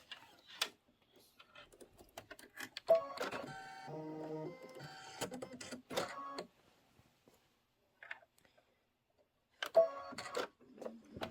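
An embroidery machine sewing a satin stitch, bursts of rapid mechanical clatter and whirring separated by pauses, close and moderately quiet.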